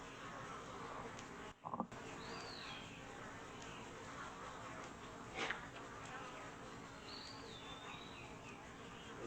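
Honey bees buzzing around backyard hives, a constant moderate drone with a couple of brief bumps and faint birdsong in the background.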